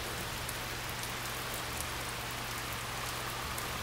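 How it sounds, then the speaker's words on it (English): Steady rain falls in a video game, a constant even hiss of drops with a low hum beneath, alone with no talk. "Now she's saying that the rain hurts her."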